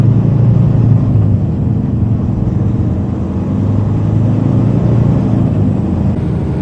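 A new tractor's engine rumbles steadily while driving, loud, low and close, with a constant drone and no speech over it.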